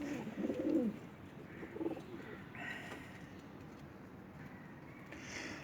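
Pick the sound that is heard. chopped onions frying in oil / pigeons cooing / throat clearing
pigeons cooing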